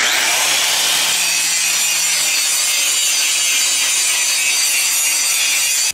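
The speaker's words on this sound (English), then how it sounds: "we're gonna grind the mill scale off the backing strap, and we're gonna grind the mill scale off the bevel" A grinder grinds mill scale off thick steel welding test plate, a bevel and its backing strap, producing a loud, continuous abrasive hiss that holds steady until it cuts off abruptly at the end.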